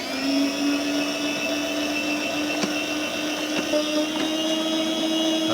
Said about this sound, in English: So not a bad little slicer.